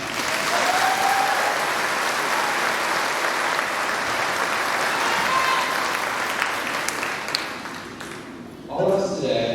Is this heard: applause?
yes